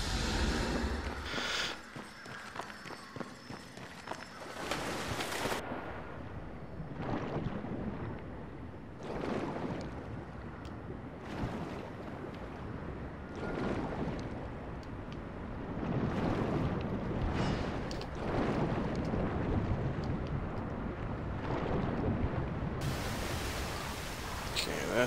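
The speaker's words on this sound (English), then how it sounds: "That's the waterfall." Steady broadband rushing water from a waterfall in Darksiders Warmastered Edition, a continuous roar that fills the whole stretch, with a brief change near the start and end.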